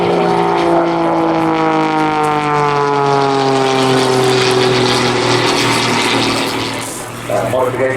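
A modified Pitts Special aerobatic biplane with new cowling, induction and fuel-injected exhaust roars past close by, its propeller engine a loud sustained drone with a falling Doppler pitch sweep, easing slightly near the end.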